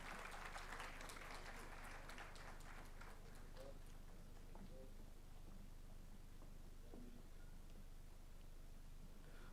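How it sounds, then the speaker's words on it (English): Applause for the toppers at a law college annual day, a dense patter of clapping from a hall audience, faint and somewhat distant, thinning gradually as it goes on. "Can we have a huge round of applause for the toppers?"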